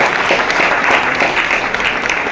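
Audience applause at a film press meet for Draupathi 2, a dense steady clapping from many hands, fairly loud and sustained throughout.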